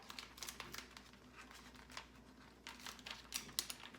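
A Cricut infusible ink transfer sheet is cracked and peeled off a mermaid T-shirt, making soft crinkling and crackling bursts up close, quiet and intermittent with brief sharp snaps near the end.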